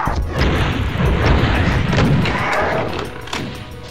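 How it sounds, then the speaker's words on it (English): Rocket explosion in a Doom-style first-person shooter, a loud booming blast with rumbling crashes and thuds that fade over a few seconds. "let's use this last rocket in a good"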